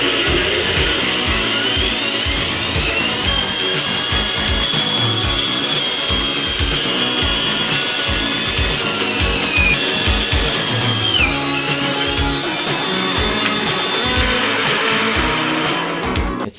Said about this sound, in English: Oh my gosh, I have a bandsaw.